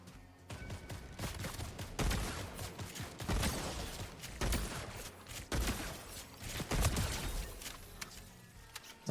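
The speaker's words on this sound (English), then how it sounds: "Someone started shooting at them." Fortnite gunfire crackles in several bursts of rapid shots, fairly faint and distant, with short gaps between volleys and no one talking.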